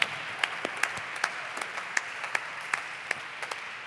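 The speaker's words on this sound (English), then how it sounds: "I would love to give one more round of applause for Mylène and everybody from Nonsuch and Ty" Applause from a live concert audience aboard the Nonsuch, a scattering of separate, fairly sparse claps spread over several seconds, heard at moderate distance with no voices over it.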